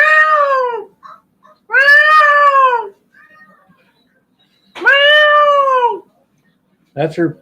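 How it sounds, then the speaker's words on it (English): A recorded peacock call played back: three loud, drawn-out wailing cries separated by pauses, with a brief voice speaking at the end. "wants to hear the peacock call again"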